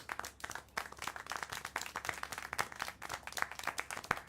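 Scattered clapping in the video game Syberia: The World Before, a steady run of crisp hand claps lasting throughout, moderately loud with no talk over it.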